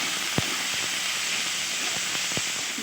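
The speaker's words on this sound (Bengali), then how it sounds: "এবার সবগুলো উপকরণ খুব ভালোভাবে নেড়ে চেড়ে কষিয়ে নেব।" Spices sizzling and frying in hot oil while being stirred for a raw banana curry, a steady close hiss with a few faint clicks of the stirring utensil.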